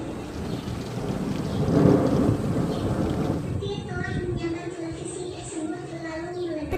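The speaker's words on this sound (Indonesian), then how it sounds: "Tiba-tiba hujan turun dengan lebatnya, beserta sambaran petir." A thunderclap rumbles over steady heavy rain, swelling then fading, followed by a quieter stretch with other sounds over the ongoing rain.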